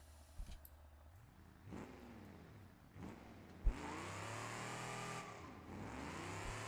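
A car engine in the BeamNG video game revs repeatedly with nitrous engaged, each loud rise in pitch climbing and then dropping back, with one long sustained high-rev pull in the middle and a sharp pop.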